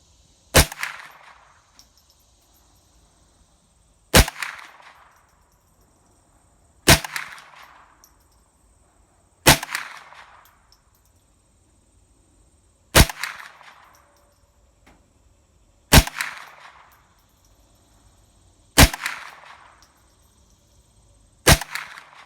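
Eight evenly spaced gunshots ring out at a shooting range from a gun fitted with a budget Pinty red/green dot reflex sight. Each shot is a sharp, loud crack followed by a short ringing decay, with quiet gaps between.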